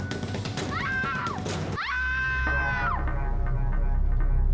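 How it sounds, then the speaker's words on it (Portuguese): Cat-like meowing cries rise and fall in two drawn-out wails, the second louder and longer, over a noisy television studio background. "por que que tem barulho de gato?"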